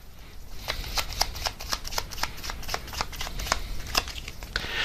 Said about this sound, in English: Let's just get one more card to see if anything else comes out about that.